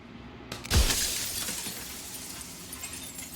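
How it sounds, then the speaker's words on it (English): Mirror glass cracks and then bursts into shards in the video game Slay the Princess, a sharp crash followed by a long bright tinkling decay, loud and up close with no voices. "And then another crack forms, and another, turning the mirror into jagged shards of broken glass."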